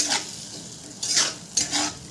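Spice paste fries in oil in a pan with black chickpeas. Three rhythmic stirring sweeps rise over a constant sizzle, the spoon scraping the pan up close with no talk.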